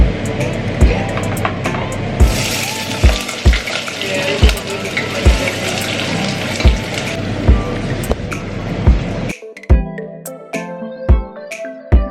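Chopped tomatoes for jollof rice sizzle and fry in a pot, a steady bubbling hiss broken by regular knocks and clatters. The frying cuts off abruptly near the end, leaving a few sharp kitchen clinks.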